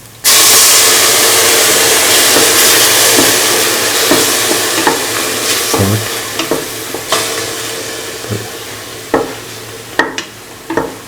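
Onion puree is stirred into a sizzling cooking mixture for cauliflower potato coconut milk rice, a steady frying hiss broken by scattered scraping and tapping of the spoon against the pan.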